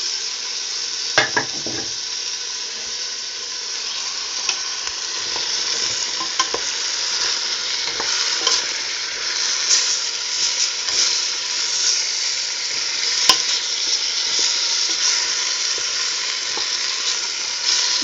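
Chopped onion sizzles and fries in a pressure cooker already holding parsley and carrot, the start of a lentil, chorizo and pork-rib dish. A steady hiss runs throughout, with occasional clinks of stirring against the pot.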